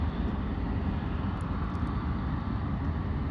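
An EasyJet airliner taxiing back to the terminal, a steady low engine rumble and roar heard from a distance, continuous and unbroken.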